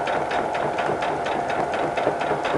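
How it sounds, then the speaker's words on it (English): Sewing machine running steadily along a rag quilt seam, a close rapid mechanical chatter of stitches with an even rhythm and no talk. "you're just going to go ahead and line up with your 5/8 inch and sew"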